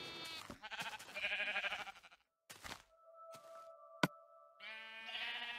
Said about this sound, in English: There's a baby sheep.